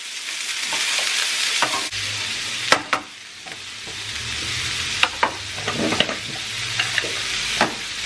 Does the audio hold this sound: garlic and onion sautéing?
yes